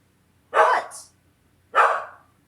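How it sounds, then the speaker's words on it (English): Two dogs indoors near a kitchen let out two sharp barks about a second apart, loud and close, with quiet between them. "They're barking at the kitchen."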